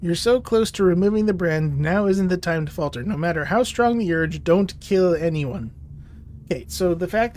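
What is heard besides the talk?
No distinct noise like a dog, phone or traffic.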